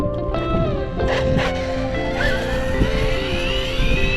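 A Losi 8ight-XE 2.0 electric RC race buggy on a 4S pack running flat out, its motor whining loud and continuous with rising pitch sweeps as it accelerates, mixed with tire and surface noise.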